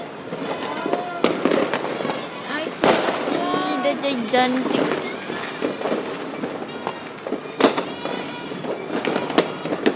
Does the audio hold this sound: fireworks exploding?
yes